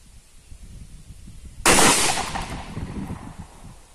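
A TOZ-34 shotgun fired at a plastic target outdoors, with a single sharp loud blast partway through that rings out and decays, following a quiet stretch.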